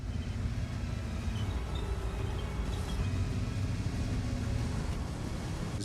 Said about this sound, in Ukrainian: З новими ефектами двигунів і гусениць машини звучать по-різному.